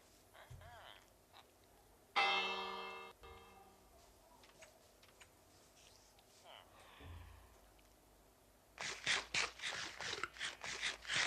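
A Minecraft bell is struck once, ringing out loudly and decaying over about a second, followed later by a burst of rapid clattering sounds.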